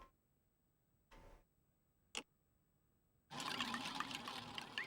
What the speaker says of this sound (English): That's a really good pour sound.